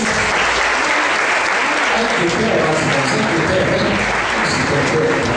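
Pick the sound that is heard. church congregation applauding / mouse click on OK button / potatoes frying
church congregation applauding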